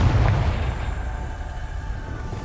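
A Confringo fire spell from Hogwarts Legacy bursts with a deep, booming blast at the start, then rumbles and fades away over the next couple of seconds.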